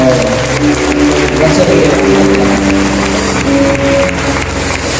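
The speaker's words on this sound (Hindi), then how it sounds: "थोड़ा सा जोरदार तालियां बजाएंगे हम लोग" A church congregation claps loudly during a sermon, a thick continuous wash of applause with music or sustained tones underneath and some voices mixed in.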